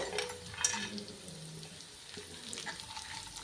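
Dry fruits fry in a pan for sheer khurma, giving a faint, soft sizzle with light stirring and occasional small clinks, fairly quiet and without speech.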